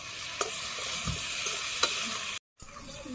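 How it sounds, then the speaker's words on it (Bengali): Purslane with salt and ginger paste being stir-fried over a homemade clay stove, an even sizzle with a couple of sharp spatula taps and a brief cut in sound near the end, no talking. "এখন সুন্দর করে কষে নিই।"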